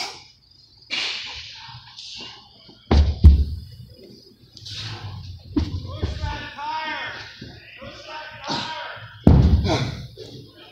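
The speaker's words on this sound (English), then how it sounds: "sledgehammer bangs on the tire over there." Two heavy, sharp thuds of a sledgehammer striking a tire during agility drills ring out a few seconds apart, with people talking between and around the blows.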